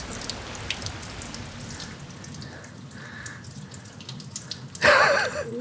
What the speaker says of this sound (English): at what point does the water stop?